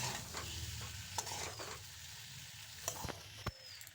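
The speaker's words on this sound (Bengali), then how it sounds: "কচুগুলো একটু নেড়েচেড়ে নিয়ে এর মধ্যে দিয়ে দেব স্বাদ অনুযায়ী নুন।" Taro (kochu) frying in a pan and being stirred, a soft steady sizzle broken by a few sharp scrapes and taps of the utensil against the pan.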